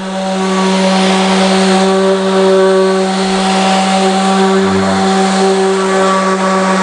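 Plaques are sanded with 80-grit sandpaper on a power sander. A loud, continuous, steady motor whine with a buzzing hum holds throughout.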